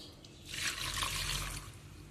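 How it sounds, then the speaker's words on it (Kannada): Water runs steadily into a pot of amaranth-greens sambar for about a second, a soft hissing splash that swells and then eases off, with no voices. "ಎಷ್ಟು ನೀರು ಬೇಕು ಅಷ್ಟು ಹಾಕಿ ಬೇಯಲಿಕ್ಕಿಡುವ"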